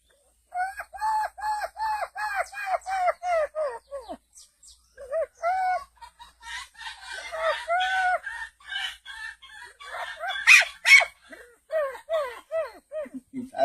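An elderly man imitates the call of the pájaro porquero, a bird heard at dusk in cacao groves, with a long series of rhythmic, whistled, bird-like notes. The phrases repeat in clear bursts with short pauses between them.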